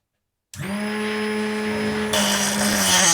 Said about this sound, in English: Now let's try to sharpen the split point drill bits.